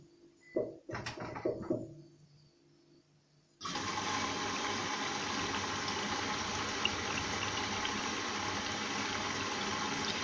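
Water rushes into a washing machine at the start of a wash program, a steady loud gushing fill that begins abruptly after a few soft clicks and beeps and continues unbroken.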